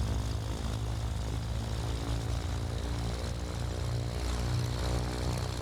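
Left piston engine of a Chancellor aircraft idling in Microsoft Flight Simulator 2020, a steady droning propeller hum with even low harmonics, loud and continuous throughout.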